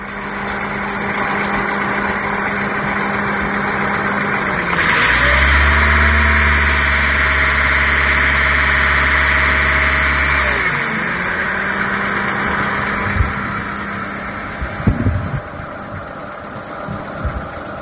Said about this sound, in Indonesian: Dengerin suara di saat digebernya.